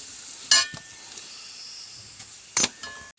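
Onions frying with chili powder in a pan give a low steady sizzle, broken by two short bursts of stirring or clatter, close by and with no voices.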